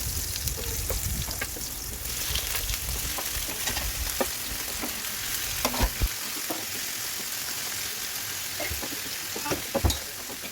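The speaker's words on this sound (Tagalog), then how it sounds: "isunod po natin igisa yung mga pusit" Squid sautéing in a pan with a steady, crackling sizzle and scattered pops, occasional spatula clicks and scrapes over the continuous frying hiss, with nobody speaking.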